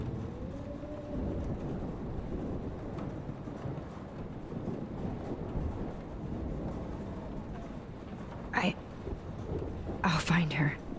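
Storm in the Life is Strange video game, a low rumbling wind and thunder bed running throughout, with soft voices and a couple of sharper bursts near the end.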